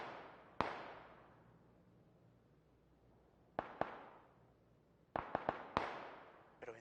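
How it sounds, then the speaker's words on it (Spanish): Sharp, echoing gunshots crack out in scattered bursts: a lone shot, a pair a few seconds later, then a rapid cluster, each decaying into a reverberant tail. "Escucho tiros, tío."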